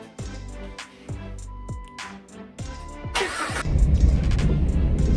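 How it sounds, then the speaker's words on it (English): A lifted Jeep's engine cranks over several times with rhythmic thumps, then catches and settles into a rough, rumbling run, close and fairly loud. "First drive in the Jeep after the change"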